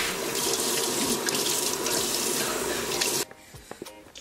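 A bathroom tap runs steadily and close for about three seconds during face washing and teeth brushing, then shuts off abruptly, leaving a few faint clicks and small knocks.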